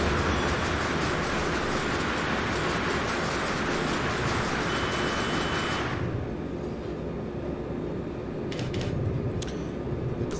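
Nightjet locomotive from Train Simulator 2020 running on the Hamburg–Hannover line: a steady, loud rolling rumble with broad hiss that thins out partway through, leaving a deeper drone and a few faint clicks.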